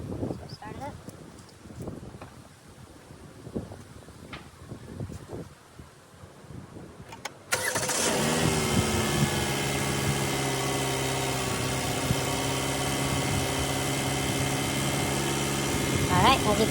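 A 2016 Chevy Malibu engine cranks and catches at about seven seconds, then settles into a steady, loud idle with a constant hum to the end, after a stretch of quieter outdoor rustling and handling noise.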